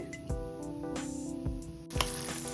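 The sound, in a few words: rice flour murukku frying in oil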